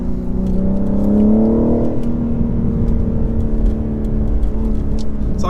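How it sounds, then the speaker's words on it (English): A 2023 BMW M4 Competition xDrive revs hard from inside the cabin, engine note climbing then easing off into a steady drone, with a brief remark spoken over it. "when you rev this thing out"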